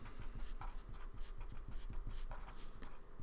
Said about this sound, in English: I'm going to write SOHCAHTOA out again